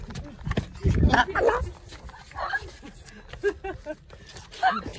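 A dog barks, yips and whimpers in short bursts through a lively home scene during a Holi celebration, with people talking and calling out festive greetings around it.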